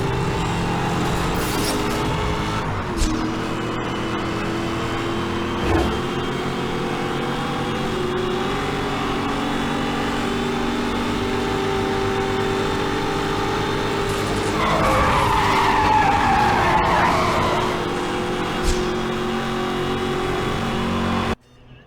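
Race cars in Need for Speed Hot Pursuit roar loudly around a track, with engines revving and changing pitch, tires squealing and skidding hard midway, and a few sharp knocks.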